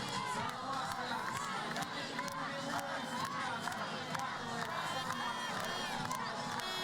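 Spectators at a Paralympic women's 12 km sitting cross-country ski race at Sochi 2014 make a steady roar of cheering and shouting, sustained crowd noise from start to finish.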